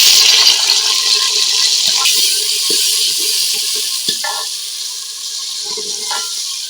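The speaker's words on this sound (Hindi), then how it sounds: "इसमें हम डालेंगे टमाटर और हरी मिर्चें।" Tomatoes and green chillies go into onions fried golden with crushed garlic for a beef ojri curry, giving a loud, steady, hissing sizzle with occasional clicks of stirring throughout.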